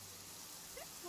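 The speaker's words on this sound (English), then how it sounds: "It's raining." Steady light rain falls in the video game Genshin Impact, a soft, even hiss that is faint and brief.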